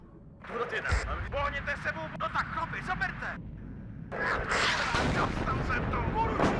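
Artillery barrage in the WARNO video game, with repeated booms and broad rumbling impacts landing in quick succession, partly under someone talking over them.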